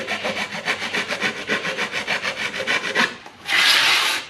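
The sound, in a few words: filing radiuses with a file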